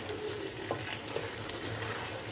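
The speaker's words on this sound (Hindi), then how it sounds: "अब आपने इसके अंदर अच्छे से स्टीरिंग करनी है।" Chicken tikka karahi with tomatoes, onion and spices being stirred in a pan, a steady close sizzle with a few soft scraping strokes and no voices.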